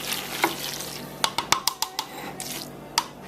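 Thick, wet squelching from a spoon stirring a pot of pasta e fagioli, with a quick run of soft clicks and scrapes against the pan.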